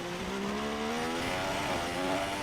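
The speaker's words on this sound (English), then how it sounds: "The engine sounds 10 times better on here than all the other games" A Formula 1 race car engine in an F1 video game drones steadily at high revs, its rising harmonic lines showing a climbing pitch as the car accelerates, loud and continuous with no talk.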